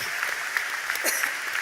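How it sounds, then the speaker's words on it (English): Applause from the crowd at a university commencement ceremony in a large venue, a soft, distant patter of clapping that stays fairly quiet and even throughout. "Please join me in a big round of applause for all of their hard work."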